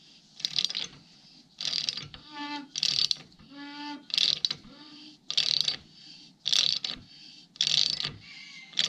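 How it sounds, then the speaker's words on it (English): A 3/4 inch wrench works loose the crankshaft of a 1959 Triumph T20 Tiger Cub clamped in copper vise jaws, giving repeated close ratcheting bursts about once a second with creaky metallic squeaks between strokes. "I just have this 3/4 inch wrench, so I figured I'd get as much leverage as a person can."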